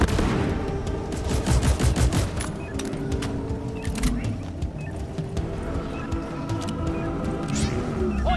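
A sentry gun in a video game fires rapid bursts of sharp, rattling shots, densest at the start and then breaking into shorter volleys, loud and close, with game sounds and a voice mixed in.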